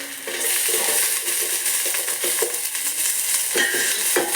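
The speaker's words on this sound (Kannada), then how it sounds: "ಇವಾಗ ಈರುಳ್ಳಿ ಹಾಕ್ತಾ ಇದ್ದೀನಿ ನಾನು." Onions dropping into a hot pan of sizzling mustard seeds, garlic and curry leaves, a loud continuous frying hiss with scattered stirring clinks and spatters throughout.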